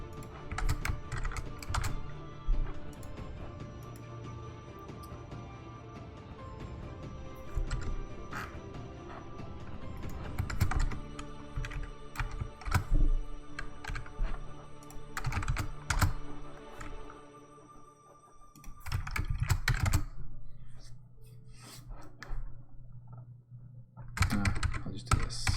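Someone types steadily on a slightly wonky computer keyboard while programming, producing a continuous run of close, crisp key clacks with louder bursts and brief pauses, over a low background hum, with no talking.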